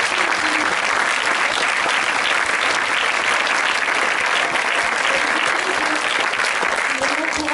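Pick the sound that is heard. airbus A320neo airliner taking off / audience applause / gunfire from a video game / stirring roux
audience applause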